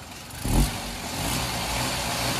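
A Maruti Wagon R with a seized engine revs once in a short loud burst, then settles into a steady, rough vibrating drone close by, with no talking.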